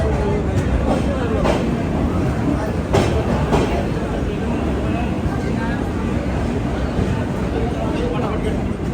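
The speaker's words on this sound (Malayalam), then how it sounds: "4 നമ്പർ പ്ലാറ്റ്ഫോമിലേക്കാണ് ട്രെയിൻ വരുന്നത്." Train rolling in toward platform 4 of a busy Indian station, a loud continuous rumble with occasional clanks and rattles, while people talk nearby.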